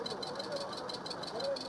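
A Ndiaga Ndiaye minibus engine runs in a steady, moderately loud rumble with a faint rhythmic knock, set against busy street noise.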